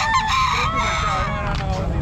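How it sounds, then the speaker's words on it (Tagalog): Chickens and a rooster at a pet market crow and squawk close by in a busy chorus, with overlapping calls and faint voices in the background. "Maraming manok dito, magaganda."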